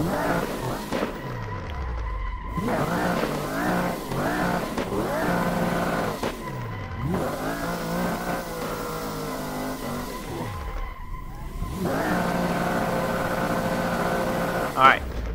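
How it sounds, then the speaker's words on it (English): A BMW E92 drift car in a racing video game, driven with wheel and pedals, revs hard with continuous screeching tire squeal as the tires heat up, loud and sustained with a few brief breaks. "So let's heat up the tires a little bit."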